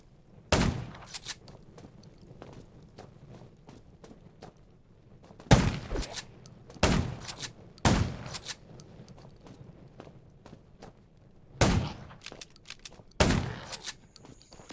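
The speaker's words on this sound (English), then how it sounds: "Gunshots, that's a junkyard." Gunfire in the zombie survival game Undawn: isolated loud sharp shots at irregular intervals, about six bursts spread across the stretch, over a low rumbling ambient bed with faint steps between them.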